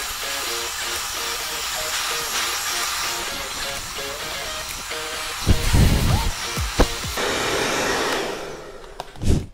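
Hair dryer blow-drying a layered haircut, a steady close airy roar with hiss running throughout, briefly interrupted by bumps and handling noises near the end.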